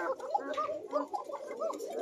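A pair of thin-voiced koka pigeons, male and female, coo in quick, warbling bursts, close and fairly clear, with short gaps between calls.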